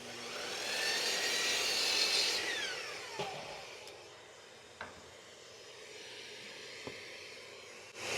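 A power tool whines loudly as it cuts the corners off six-inch wooden brackets for a taller table saw fence, then spins down, followed by a few faint knocks of wood being handled.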